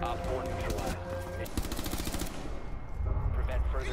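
A gun is hip-fired in Rainbow Six as a rapid burst of sharp shots, loud and close, set among other game effects, with a voice heard faintly in the mix.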